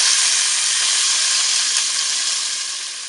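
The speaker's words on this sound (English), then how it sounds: "the turkey neck that was down in my turkey, you want to sear that off and brown it on all sides" A turkey neck sears in a pot, giving a loud, close, continuous sizzle and hiss that fades slightly toward the end.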